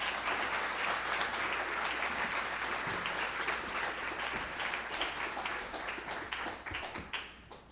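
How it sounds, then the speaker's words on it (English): A room of listeners greets a guest speaker at an evening talk with a warm, sustained round of applause, dense and even for several seconds before thinning out and fading toward the close. "Please give a warm round of applause."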